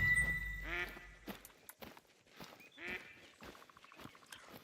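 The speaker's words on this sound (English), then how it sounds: "Even got some ducks, it sounds like." Several ducks quack intermittently in a hunting video game's outdoor New England setting, short nasal calls scattered at moderate distance amid soft ambient rustling and steps.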